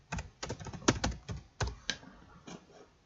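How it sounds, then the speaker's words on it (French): Someone types on a computer keyboard while entering text during a software setup. The keystrokes are close and quiet, coming in irregular quick bursts with short pauses between them, and no one speaks. "Dans la première case, on tape Hyperspin."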